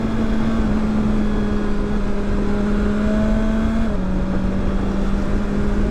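A 2020 BMW S1000XR motorcycle's inline-four engine hums loud and steady at high revs while riding on open roads, its pitch holding then dropping slightly near the end.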